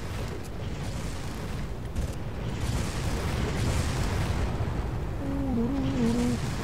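Rocket explosions in the Far Cry video game make a continuous rumbling, booming wash at moderate level, with a brief tonal voice-like sound near the end.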